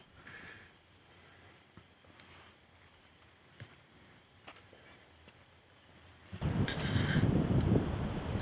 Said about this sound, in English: It's definitely windy out.